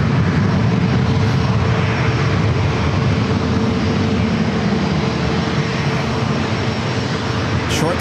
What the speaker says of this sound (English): Short flight for this ATR 42, just coming in from Tijuana, Mexico, just across the border.